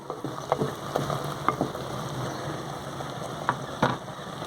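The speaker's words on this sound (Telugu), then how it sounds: "బాగా ఫ్రై అవుతున్నాయండి వంకాయలు" Eggplants frying in an open pan for a spiced curry, a steady close sizzle with occasional soft pops and stirring scrapes throughout.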